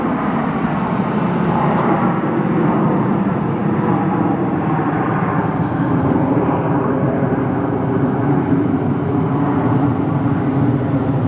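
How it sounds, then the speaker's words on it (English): An American Airlines Airbus A321 with sharklets departs Phoenix Sky Harbor Airport, its jet engines a loud, steady rumbling roar with a broad hiss that holds level for the whole stretch. "There goes that A321. This one has the sharklets."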